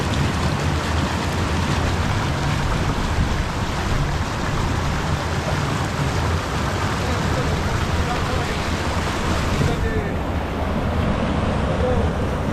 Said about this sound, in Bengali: আমরা শেষ পর্যন্ত পৌঁছে গেলাম ঘাগরা ওয়াটারফলসের সামনে।